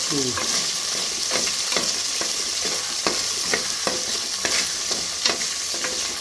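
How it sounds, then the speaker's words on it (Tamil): Onions with a pinch of salt sautéing in a pan for bisi bele bath: a constant close sizzle broken by regular scraping clicks of a spoon stirring. "வெங்காயத்தை போடும்போது கொஞ்சம் உப்பும் போட்டுக்கோங்க. வெங்காயம் நல்லா வதங்கிடும்."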